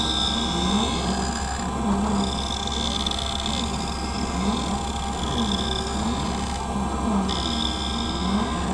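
A prescription lens for a pair of Gucci 1008 glasses being beveled on the bevel wheel of a lens edger, skipping the cutting wheel; a steady, loud grinding rasp with a rhythmic whirring pulse, continuous throughout with no talk.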